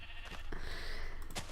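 A sheep bleats in a video game, several short wavering calls at moderate distance over a steady background hum, with no talking.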